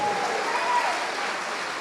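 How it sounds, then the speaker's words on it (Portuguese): A church congregation applauds, a continuous wash of many hands clapping at moderate distance, steady and even throughout with a faint voice beneath. "vamos aplaudir mais ao Senhor"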